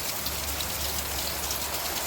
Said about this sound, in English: It's raining here. It's going to be a downpour all day long.